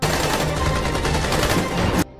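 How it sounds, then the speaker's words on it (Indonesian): A rapid, sustained burst of gunfire rattles loudly for about two seconds, then cuts off abruptly into quieter background. "Saat akan kabur, Roman melepaskan tembakan ke arah Jen"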